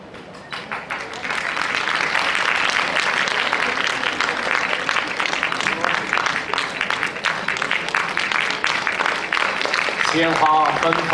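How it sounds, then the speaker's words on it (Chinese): Sustained audience applause at a youth Chinese opera showcase in Singapore, a dense steady clapping that rises quickly and continues loudly throughout, with a few cheers near the end. "掌声热烈"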